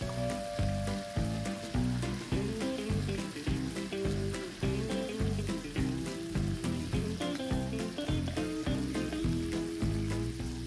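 Fish skewers sizzle steadily in a hot pan while a spoon bastes them, with a dense, continuous frying crackle and repeated soft scraping strokes throughout.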